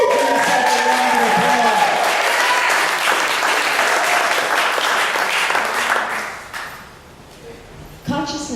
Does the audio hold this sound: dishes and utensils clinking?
no